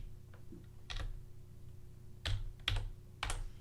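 Keys on a computer keyboard being typed in short bursts, a few clustered clicks at a time with pauses between, close and fairly quiet in a still room.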